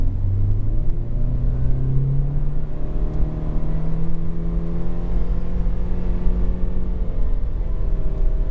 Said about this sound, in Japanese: 高速ワインディングを少し気持ちよく走ってみたいと思います